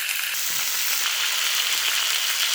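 Mango pieces dropped into hot oil with dried red chillies for a chutney, a close, loud, steady hiss of sizzling frying that continues throughout with no talk.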